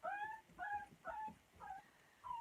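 A puppy whimpers in a faint series of about five short, high, wavering cries at an even rhythm. No one speaks.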